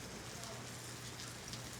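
Curry pork burgers frying in a pan give a steady, close, crackling sizzle, even and dense like rain on a surface, alone with no talk.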